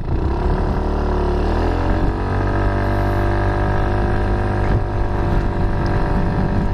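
The engine of a Piaggio Medley S 150 ABS scooter accelerates from low rpm, its loud, close drone climbing steadily in pitch and holding strong throughout.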